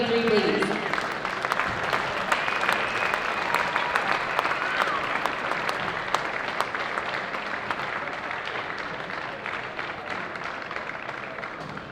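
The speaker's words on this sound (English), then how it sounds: "One more round of applause for our five players, the all-tournament team of the ANGT 2023, please." Sustained crowd applause fills an awards ceremony at the ANGT 2023 under-18 basketball tournament final in Munich, honoring the all-tournament team; dense steady clapping continues throughout, with faint voices beneath.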